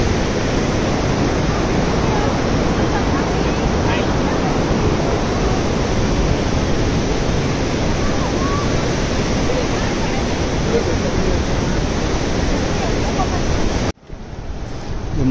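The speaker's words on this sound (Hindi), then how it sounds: "नदी का बहाव बहुत तेज है।" Fast-flowing river at Manikaran in Himachal Pradesh, a loud, continuous broadband roar of rushing water close by, steady throughout before cutting off abruptly near the end.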